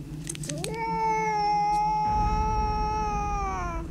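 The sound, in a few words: cat meowing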